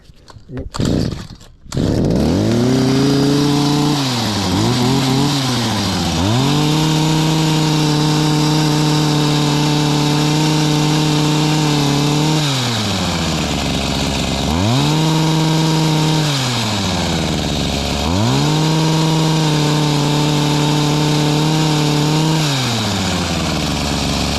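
A gasoline hedge trimmer engine roars loud and close, revving up and down in repeated surges after a brief start-up.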